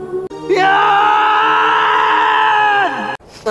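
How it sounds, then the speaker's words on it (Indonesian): A loud, sustained scream with strained harmonics, held for about two and a half seconds by hikers on the climb toward Mahameru, rising and then falling off abruptly. "Kenapa teriak-teriak, Pak?"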